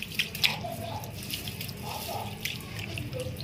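Water runs from a tap into a sink while dishes are rinsed with only a small amount of water in a home kitchen, a steady close trickle with soft clinks and splashes and no talking.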